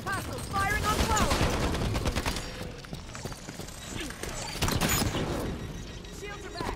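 Battle noise from a Halo 5: Guardians multiplayer match, with rattling weapon fire and sharp impacts running throughout beneath almost continuous in-game announcer and player voices.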